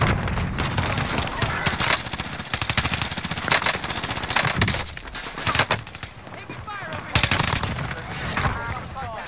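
A PPSh submachine gun fires in long rapid automatic bursts in Call of Duty on Rebirth Island, loud and dense, with other gunfire and impacts mixed in and almost no quiet gaps.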